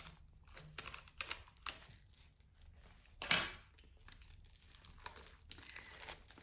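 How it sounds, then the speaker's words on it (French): Plastic film is peeled and crinkled off a new oracle card deck, close and quiet, with irregular crackling bursts and one louder tearing rustle midway. "Donc il est sous un film plastique,"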